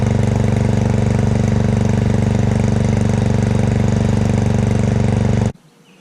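A Weldanpower welder's engine fitted with an aftermarket muffler runs at a steady, loud, droning idle from about twenty feet away, then cuts off abruptly near the end, leaving quiet.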